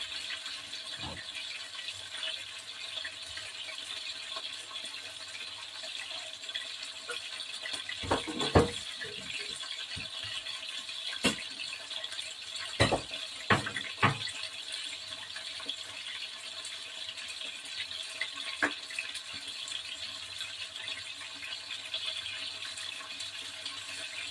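Steady running water, like a tap filling a sink, with occasional clinks and knocks of dishes or utensils nearby, in a kitchen while cooking pork dumplings.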